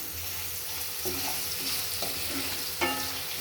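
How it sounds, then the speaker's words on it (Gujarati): Diced potatoes roast and sizzle in a pan over a low gas flame for a poha dish, with a steady fizzing hiss and a few distinct scraping stirs of a spoon against the pan, close and alone. "હવે આ બટેકાને આપણે શેકી લઈશું બરાબર ધીમા તાપે। ગેસની બી આવી રીતે હલાવતા રહેવાનું।"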